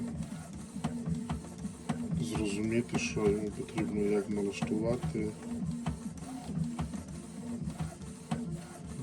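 A Canon G3411 inkjet printer whirs and clicks through print head calibration, its mechanical rhythm running steadily beneath a person talking close by.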